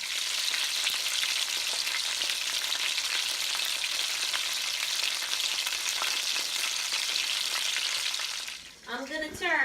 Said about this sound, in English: I know you like the 1080 HD sizzle shot.